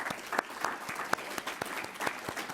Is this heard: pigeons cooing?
no